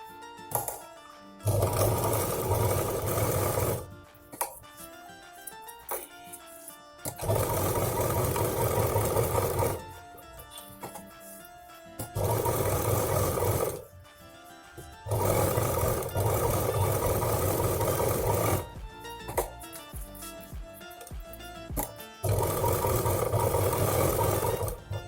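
A sewing machine stitches a fabric handbag in several long, loud runs of rapid whirring, separated by short pauses.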